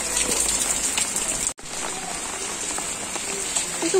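Steady rain patters down continuously, with a brief dropout partway through before the dense hiss of falling drops resumes.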